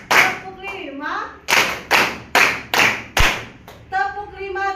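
A class of children clapping hands together on cue in a counted rhythm, each sharp, crisp group clap separated by short gaps, with a teacher's voice calling between and around them.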